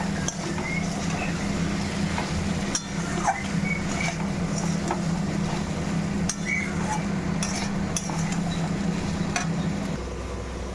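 Pumpkin and a ground paste of shrimp heads and salt fry in a pan, with a continuous low sizzle broken by sharp metallic scrapes and clinks of the stirring spoon.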